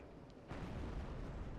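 An American T34 tank in War Thunder takes a hit from an enemy shell, a sudden heavy thud that swells into a loud, sustained rumbling roar up close.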